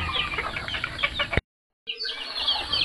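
Mother hens with chicks, penned together, cluck in soft repeated bursts close by, the sound cutting out for about half a second before the clucking resumes.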